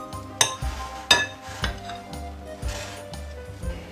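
Grated potato mixed with salt and seasonings, stirred in a bowl: clinks and knocks of a utensil against the dish at an irregular pace, close and clear, with no talking.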